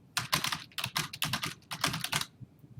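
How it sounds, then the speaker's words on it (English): Rapid bursts of computer keyboard typing in uneven clusters of keystrokes, close and clear, with short pauses between runs and no voices. "I type whatever I want on here"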